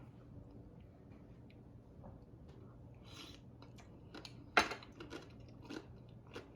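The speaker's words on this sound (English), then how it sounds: "let me take a first bite here" Someone bites into papdi chaat and chews with faint crunches. The crunches come quietly and irregularly, with a louder crisp bite near the middle, over a low background hum.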